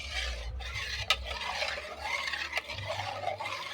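A spoon stirs sour yogurt into cooled milk for homemade sweet yogurt, making soft swirling and scraping sounds close by, with two sharp clinks against the bowl and no speech.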